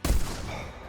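A single shotgun shot in the hunting game theHunter: Classic, a sharp loud blast with a booming low end that rolls off into a long fading echo, heard alone.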